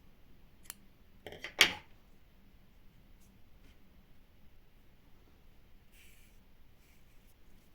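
Scissors snipping crochet yarn at a color change, a couple of quick soft metallic cuts close by, then quiet with faint handling rustle.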